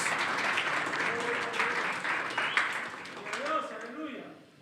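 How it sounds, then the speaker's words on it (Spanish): Church congregation clapping in praise during a Spanish-language worship service, a steady, full round of applause that fades near the end, with voices speaking and calling out over it. "dale una ofrenda de palmas al Rey de Reyes y Señor de Señores"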